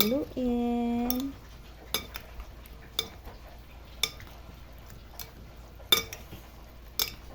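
Eggplant salad fried with ginamos fermented fish paste stirred in a pan, heard as a short tonal sound at the start followed by sparse metallic clinks and taps of a utensil against the pan.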